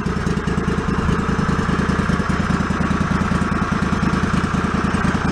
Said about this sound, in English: What a good running little engine.